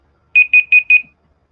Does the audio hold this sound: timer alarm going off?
yes